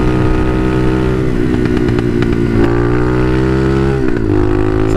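A Bashan Motomax 250 street-legal dirt bike ridden around a neighborhood, its engine loud and close throughout, holding a steady buzzing drone with a couple of brief rev changes and no talking.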